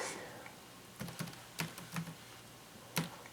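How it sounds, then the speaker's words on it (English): Keys tapped on a computer keyboard in a quiet room, a handful of sharp, irregular clicks in short bursts with pauses between them. "just type the domain name that I wanted to work with"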